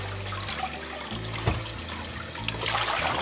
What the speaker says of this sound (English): I am going to wash the drumsticks in cold water